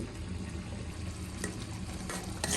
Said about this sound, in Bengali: একটু ঢাকনা দিয়ে মশলাগুলোকে কষিয়ে নিচ্ছি।